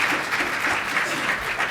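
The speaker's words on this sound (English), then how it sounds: "You can applaud, yes." A conference audience at the 2017 PDMA event bursts into dense, sustained applause, many hands clapping at once in a large room for under two seconds.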